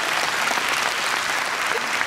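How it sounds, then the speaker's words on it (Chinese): A large audience at a business testimonial convention in Taipei's TICC hall claps together in dense, sustained, loud applause with no break. "也给宝莲姐一个最热烈的掌声"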